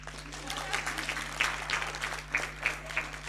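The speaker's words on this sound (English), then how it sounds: "Turn around, look at your lecturers. Some of them are not here. Applaud them." Graduation ceremony audience applauding their lecturers, a quiet spread of clapping with a few sharper nearby claps standing out over a steady low hum.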